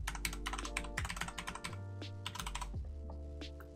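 Rapid keystrokes clatter on a computer keyboard while a beta code is entered in Steam game properties, a dense run of close clicks with brief pauses, set over steady background game music.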